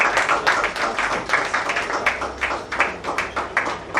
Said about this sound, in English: let's give the professor another round of applause again